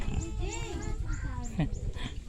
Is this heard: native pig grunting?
yes